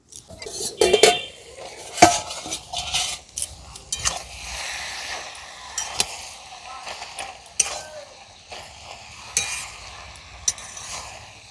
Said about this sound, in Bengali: এবার ঢাকনাটি খুলে নাড়াচাড়া করে দেব আর ওয়ান স্পুন ঘি দিয়ে দেবো